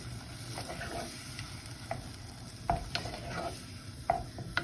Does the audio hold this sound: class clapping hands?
no